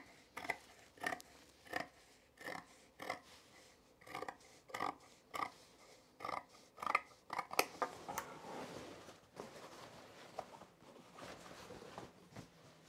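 Scissors snip along one edge of denim jeans, a steady series of crisp, close cuts in a regular rhythm that quickens and blurs together toward the end, with no talking.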